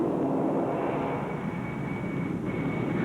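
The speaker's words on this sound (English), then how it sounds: "a VMU, or minimum unstick speed test, that demonstrates the slowest speed at which the airplane will take off at an extreme pitch angle." Boeing 747 taking off during a minimum unstick speed test at an extreme pitch angle, a continuous roaring jet engine rumble with a high whine, steady and moderately distant throughout.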